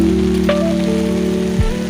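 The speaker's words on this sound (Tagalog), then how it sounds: "Basang-basa na kami sa ulan" Heavy rain at an outdoor market, falling as a steady dense patter close by, with a few faint tonal sounds passing through and no voices.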